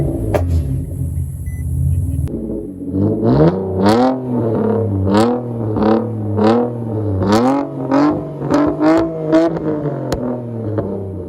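A 2009 seventh-generation Nissan Maxima with an aftermarket exhaust and added resonator is revved repeatedly, the engine rising and falling in roughly a dozen deep, growling throttle blips after a steady idle, loud and close.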